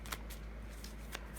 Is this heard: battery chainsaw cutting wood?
no